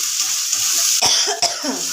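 Continuous high sizzling of onions frying in a pan, broken by a couple of coughs in the middle.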